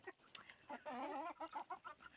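Chickens and a rooster cluck and warble close by, with a run of rising and falling calls and short clucks in quick succession.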